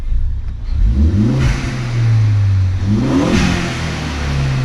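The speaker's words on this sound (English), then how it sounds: "I don't know if y'all can hear the blow-off valve or whatnot in there" A Ford Focus ST/RS engine with a Roush cold air intake revs up loudly and nearby, pitch climbing and falling twice, with brief airy blow-off valve whooshes between the pulls.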